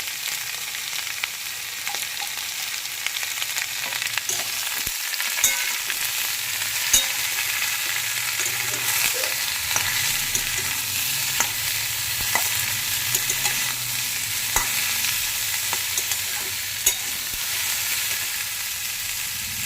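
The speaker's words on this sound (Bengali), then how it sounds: "সবজিটাকে আমি একটু ভালো করে ভেজে নেব" Vegetables fry in a hot pan with a continuous sizzle, broken by occasional clicks and scrapes of stirring, close and fairly loud throughout.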